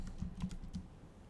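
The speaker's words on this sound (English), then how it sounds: "I'm going to go ahead and type my last name in all caps." Typing on a computer keyboard, a quick run of soft, close keystroke clicks with brief gaps, fairly faint and uninterrupted by speech.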